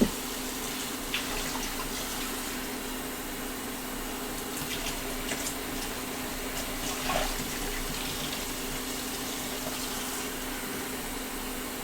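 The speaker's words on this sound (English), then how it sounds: "Let's get some hot water, 1 1/2 cup." Hot water runs steadily from a tap to measure out for masa dough for fresh tortillas, a constant close hiss and splash with no talk.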